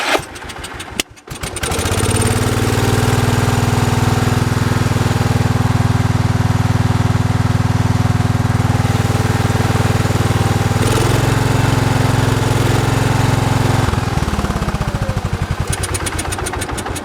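A small engine on a wood splitter runs loud and close at half throttle with a steady drone, dipping briefly near the end and then settling again.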